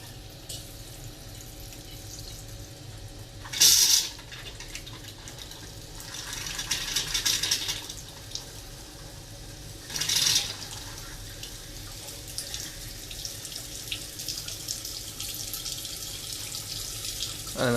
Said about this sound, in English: we do have a faucet in the basement open, just so that let all the air is out